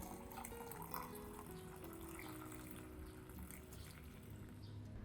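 Clean water poured to dilute a filtered tea solution for orchid fertilizer, a quiet steady trickling and splashing of liquid running continuously at low level, with no talk.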